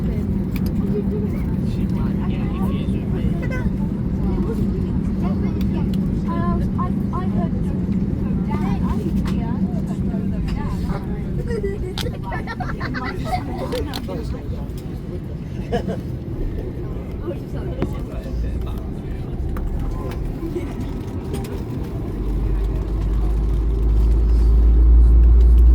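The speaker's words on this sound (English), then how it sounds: "Gonna push back now. The tug." Aboard an Airbus A321neo at Manchester Airport during pushback by a tug, a low, steady cabin rumble holds throughout and builds louder toward the end, with people talking over it.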